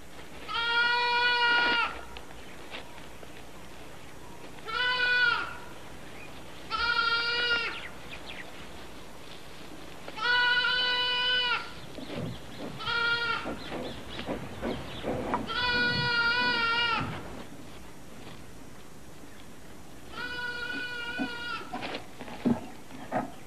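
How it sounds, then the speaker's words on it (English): A goat bleats repeatedly in the Gir forest of Sasan, around seven loud, close, quavering calls spaced a few seconds apart over quiet outdoor background. "The bleating of a goat lures lions from their thickets."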